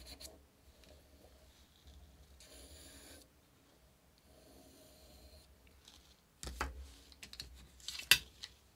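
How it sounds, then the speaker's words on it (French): Scissors snip around a paper circle for a rainbow thank-you card, giving faint, close, intermittent crisp cutting and rustling sounds in a quiet room, with a few louder snips near the end. "Tu prends ton ciseau"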